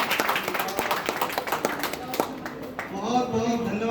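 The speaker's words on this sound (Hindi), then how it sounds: "सबके लिए जोरदार तालियां।" Seminar audience clapping, a quick burst of claps that thins out, then a voice begins speaking over the fading sound.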